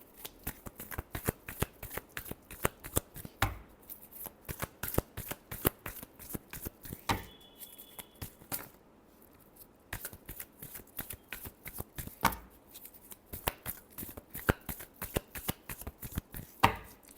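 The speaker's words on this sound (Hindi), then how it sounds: "last shuffle" Tarot cards are shuffled by hand in repeated quick riffling bursts, crisp and close, with a brief pause near the middle before the shuffling resumes; no one speaks.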